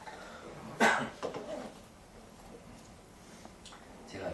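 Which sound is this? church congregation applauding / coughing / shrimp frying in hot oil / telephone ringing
coughing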